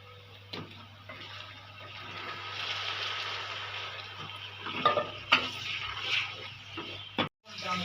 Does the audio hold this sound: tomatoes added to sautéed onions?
yes